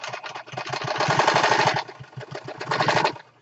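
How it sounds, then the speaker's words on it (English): A home sewing machine stitches in a crafting corner, a rapid rattling burst that runs steadily, pauses briefly near the two-second mark, then resumes before stopping; close and fairly loud with no talk. "that's enough of that sewing now for right now"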